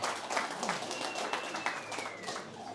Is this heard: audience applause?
yes